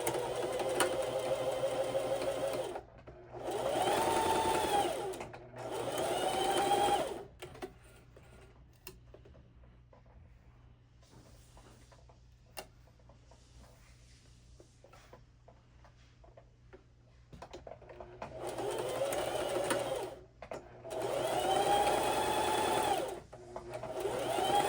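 A sewing machine stitches bodice seams in white thread in several close, loud bursts of rapid mechanical chatter. The bursts are separated by quiet pauses and faint handling noise.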